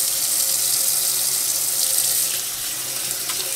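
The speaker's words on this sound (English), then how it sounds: "So I just run them under cold water for a minute or so." Noodles rinsed under a steady stream of cold tap water in a kitchen sink, a continuous close hiss and splash that eases slightly near the end.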